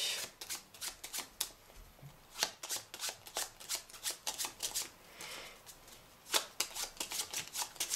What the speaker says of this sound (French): on mélange pour la passe dans le paquet